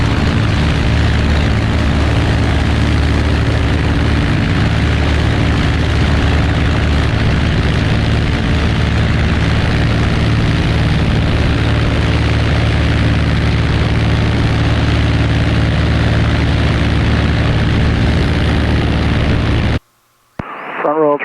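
A Cessna Skyhawk propeller plane's engine drones loud and steady for about twenty seconds while climbing after takeoff in winter, a buzzing, throbbing roar that cuts off abruptly near the end.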